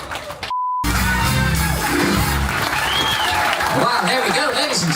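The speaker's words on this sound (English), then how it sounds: "how about a round of applause for everybody for taking part?" A cruise ship audience gives a round of applause to everyone who took part, a loud wash of clapping and cheering that follows a brief beep and gap, with voices mixed in.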